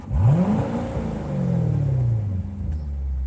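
A car engine revs up and then winds down in a long falling drone, close and fairly loud, with no voices.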